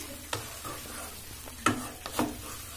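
Spatula scraping and stirring a cheese, soya and egg roll mixture in a pan, a few sharp clacks against the metal among soft scraping, with faint frying underneath and no voices.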